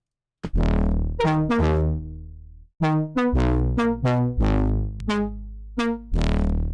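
Deep synth bass notes with a gritty, distorted edge, played as a sequence of separate hits and held tones, loud and upfront with no other sounds.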